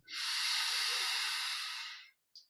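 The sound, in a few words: deep breath in during guided meditation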